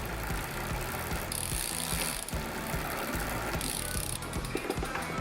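A hand ratchet tightens a wheel bolt on a Super73 RX electric bike, giving rapid clicking pawl strokes in bursts, close and clear, with no talking.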